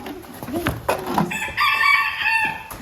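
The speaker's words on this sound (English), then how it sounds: "I apologize, everybody, for the screaming roosters" Several roosters crow loudly and close by, their long, drawn-out calls overlapping, with clucking hens in the background.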